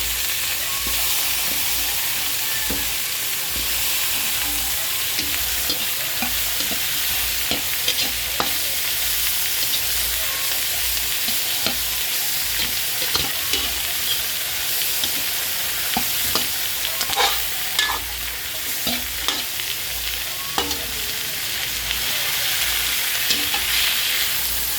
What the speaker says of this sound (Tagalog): Isama ko na rin ng gisa si mushroom.